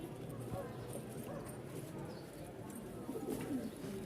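Pairs of Giribaz pigeons, black-and-white mixed, in a pigeon market in Mirpur-1, Dhaka, cooing steadily at a low pitch close by, amid a continuous bustle of background noise.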